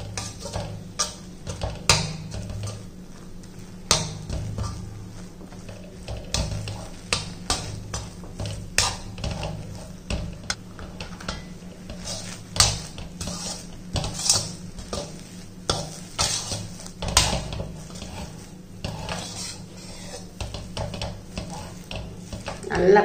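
Ragi flour dough being stirred in a pot over a low flame, with repeated scraping and clinking of a spoon against the metal vessel in an irregular, close rhythm with no talk.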